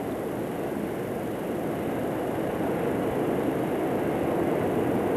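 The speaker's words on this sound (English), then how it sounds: "as the train moves over the suspension bridge" A steady, heavy rumble of a test train rolling across the Akashi Kaikyo suspension bridge without pause, dense low roar with a faint hiss above, continuous for the whole stretch.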